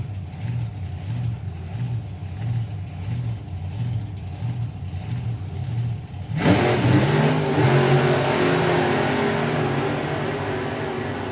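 A supercharged Model T Altered drag car runs at the Hot Rod Drags 2023. A pulsing engine rumble idles and builds, then erupts partway through into a loud, sustained roaring launch that stays strong to the end.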